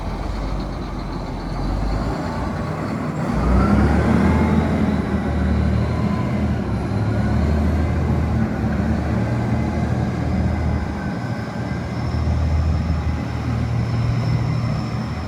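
A large articulated farm tractor on a Canadian farm rumbles steadily during a ride, a loud continuous low engine drone with mechanical hum and cab noise, no voices.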